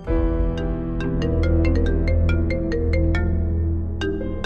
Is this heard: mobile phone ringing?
yes